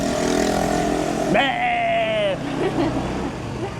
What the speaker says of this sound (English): I don't know why they take the exhaust pipe away